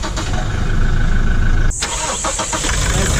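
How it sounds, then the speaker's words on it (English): A Toyota Innova 2.8 diesel engine cranks and catches, then settles into a steady, fairly quiet idle close by, with no talking. "Let's hear how the diesel variant sounds."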